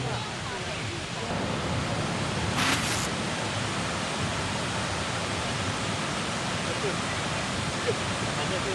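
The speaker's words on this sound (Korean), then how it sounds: "한번 루앙프라방 꽝시폭포 어떤지 한번 가보겠습니다" Kuang Si waterfall near Luang Prabang, Laos, rushing as a steady, loud broadband roar that fills the scene without a break.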